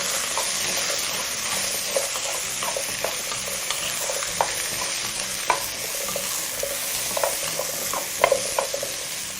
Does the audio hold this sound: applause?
no